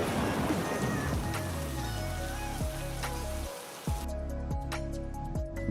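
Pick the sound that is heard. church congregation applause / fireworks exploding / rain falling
rain falling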